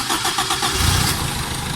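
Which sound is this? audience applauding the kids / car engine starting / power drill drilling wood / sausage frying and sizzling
car engine starting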